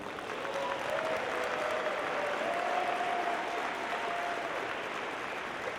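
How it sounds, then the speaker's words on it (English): An audience at a 2017 FIRST robotics district event's opening ceremony applauds, a thick, steady wash of clapping from a large crowd that holds evenly throughout, with a faint tone riding above it. "Let's give a big round of applause."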